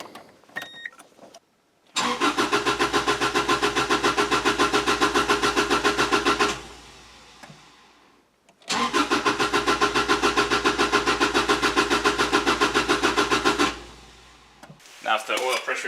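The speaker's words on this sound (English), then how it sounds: "What I'm going to do is crank the car until the oil pressure light goes away." A car engine with the spark disconnected cranks over without firing while a newly installed engine is primed for oil pressure. Two long, steady, rhythmic cranking bursts of about five seconds each are separated by a short pause, loud and close.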